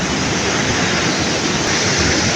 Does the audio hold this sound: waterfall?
yes